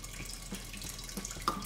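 Water from a tap poured into a plastic egg cooker for seven eggs, a brief soft trickle and splash, quiet and close, with no talking.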